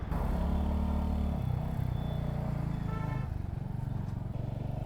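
A Royal Enfield Hunter 350 motorcycle rides through the narrow lanes of Garhmukteshwar toward the Ganga ghat, its engine thumping steadily and close, easing off near the end.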